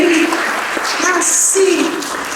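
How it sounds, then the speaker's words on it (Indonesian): Audience applause at a Christmas gathering forms a steady, dense wash of clapping for about two seconds, with a voice talking over it throughout. "Ya, tepuk tangan buat saudara sendiri."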